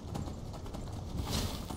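Steady clip-clop of a horse's hooves in the video game Skyrim, a quiet, even trotting rhythm heard alone with a faint background.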